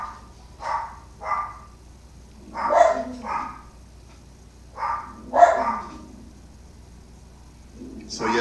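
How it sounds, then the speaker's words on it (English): Dogs in a home bark in a string of short bursts spread across the stretch, fairly near, with quiet gaps between them. "that's my dog in the background."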